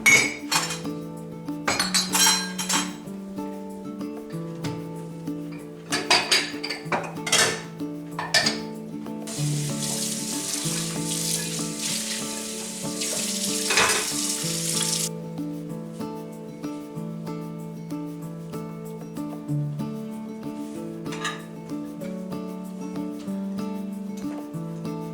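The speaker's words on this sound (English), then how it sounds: "I'll wash up these dishes real quick" Dishes being washed up in a kitchen sink: steady clinks and knocks of plates and cutlery, with a stretch of running water midway, all alone with no talking.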